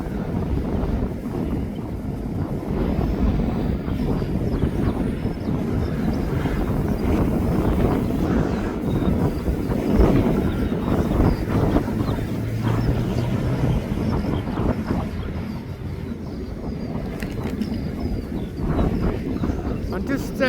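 A Jet2.com airliner on final approach at East Midlands Airport, a continuous low engine roar mixed with gusty wind buffeting the microphone, steady and moderately loud, with scattered voices heard underneath.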